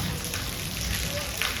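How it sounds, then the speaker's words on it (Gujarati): Steady rain falls as a dense, even hiss of drops on surfaces, loud and close, with a voice faintly mixed into the wash. "આ વરસાદ પડે છે"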